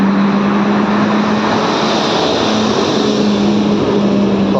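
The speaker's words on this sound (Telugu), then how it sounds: "సారీ, లారీ సౌండ్ వచ్చింది." A lorry passing by on a road near a park in Dubai, a loud, steady broadband roar with a droning engine tone that fills the whole stretch without speech.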